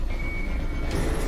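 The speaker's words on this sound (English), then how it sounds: "That's the alarm that I heard." Alarm beeping aboard a runaway train in the video game Poppy Playtime Chapter 2, a steady continuous tone over a loud rumbling mechanical drone throughout.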